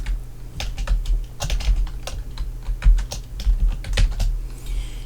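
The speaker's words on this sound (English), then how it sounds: "And I'm going to type in Quiver." Text is typed on a computer keyboard, with quick irregular clicks of keys pressed close by, bursts of keystrokes separated by brief pauses, over a low steady hum.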